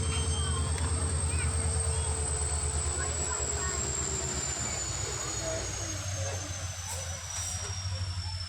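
A passenger train runs between Edamangala and Kodimbala stations, heard from inside as a steady rolling rumble with a rhythmic wheel clatter and a high whine, with faint voices in the carriage.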